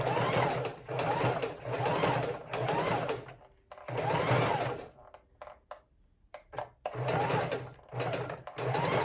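A sewing machine stitches fabric for a handmade book cover in several loud, even bursts of rapid mechanical whirring separated by short pauses and small clicks as the work is turned.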